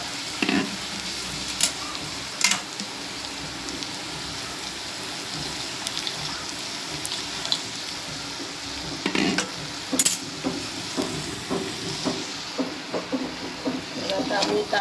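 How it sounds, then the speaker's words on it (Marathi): Milk poured into a pan of boiling tea on the stove, with steady bubbling and sizzling under scraping spoon strokes that stir the pot at close range. "चहामध्ये दूध टाकते मी."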